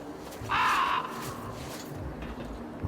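Crow cawing in The Long Dark video game with the STALKER mod, one harsh drawn-out caw over quiet windy ambience, no speech.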